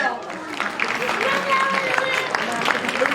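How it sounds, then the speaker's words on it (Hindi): An audience at a church Christmas dinner claps for the children who performed a play, a moderate crowd applause mixed with murmuring voices throughout. "इनके लिए तालियां बजाएं।"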